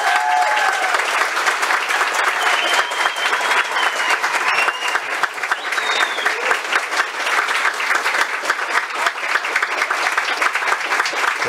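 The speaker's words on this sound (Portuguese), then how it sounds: "E vamos aplaudindo com muita alegria esse beijo, por favor" A crowd applauds a couple's kiss at a café in Petrópolis, loud continuous clapping throughout, with faint cheers or whistles rising through it.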